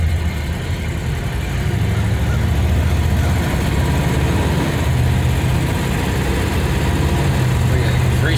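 A 1962 Chevrolet Bel Air with an automatic transmission is on the move, its engine a steady low rumble with road and wind noise close and loud throughout, and people talking briefly over it.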